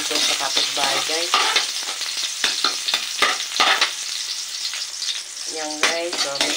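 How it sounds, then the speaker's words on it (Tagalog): Garlic and onion sizzle loudly in hot oil, with steady frying broken by repeated clatters of a spatula stirring through the pan, continuous and close. "Guys, igisa na natin sa bawang at sibuyas."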